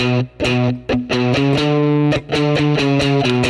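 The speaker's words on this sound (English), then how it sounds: "I'll play the same riff, but with an overdrive distortion tone." A loud, sustained electric guitar riff with gritty overdrive distortion, chords ringing out with brief choppy breaks between them.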